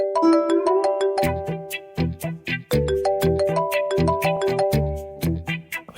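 Mobile phone ringtone sounding for a repeated incoming call: a loud, bright melodic chime plays continuously in a rhythmic pattern, close and alone without talking.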